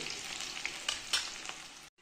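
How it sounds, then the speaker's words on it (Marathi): Steady sizzling of okra frying in oil, with a few light clinks and stirring sounds, then a sudden cutoff. "हे बघा, चांगलं तळलं जातं येते सगळं"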